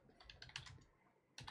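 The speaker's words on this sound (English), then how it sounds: "Oh, man, my bad typing." Fast, light clicking of computer keyboard keys close by, a burst of keystrokes, a brief pause, then more typing at the end.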